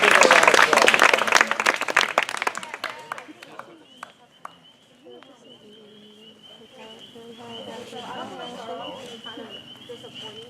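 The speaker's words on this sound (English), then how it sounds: "Everybody give her a round of applause." A campfire audience bursts into loud, dense applause and cheering that fades over a few seconds, leaving scattered claps and people talking softly in the background.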